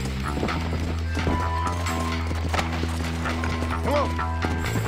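Hooves clip-clop under game music and effects in Red Dead Redemption on PC, with a horse whinnying briefly near the end.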